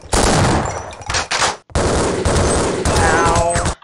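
Loud, sustained bursts of automatic gunfire from the video game Half-Life: Opposing Force, with a brief pause midway before the rapid shots resume and run to the end.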